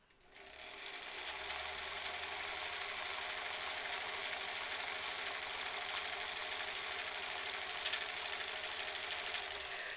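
Sewing machine running nonstop while stitching face masks on an assembly line, a steady, close, fast mechanical whir and rattle holding even for about ten seconds with no talking.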